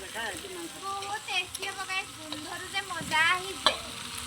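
Meat sizzling in a hot pan while being stirred, with scraping and bubbling bursts at close range and a voice speaking over it.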